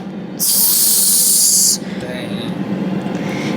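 Food pressed into a hot pan bursts into a loud, steady hiss of sizzling for over a second, then settles into a softer frying crackle with faint background noise.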